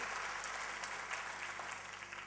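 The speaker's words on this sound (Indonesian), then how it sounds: "Tepuk tangan buat Tuhan kita saudaraku." A church congregation applauds together in a continuous, even wash of clapping, heard from a distance and fairly faint, with no talk over it.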